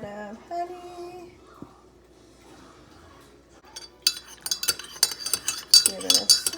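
A spoon clinks and scrapes inside a glass as honey is mixed into homemade lemonade, quiet at first, then a busy run of rapid metallic chinks and stirring taps close by.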